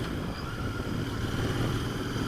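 A Royal Enfield 650 Interceptor motorcycle engine drones steadily while riding, with a constant low rumble and wind noise and no speech.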